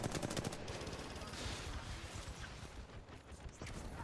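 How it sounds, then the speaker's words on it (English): Rapid gunfire in the Apex Legends battle royale shooter, a dense run of repeated shots at the start that continues as a sustained, loud crackle of automatic fire with game ambience throughout. "I missed my initial shots, but hit the last one, so that's something."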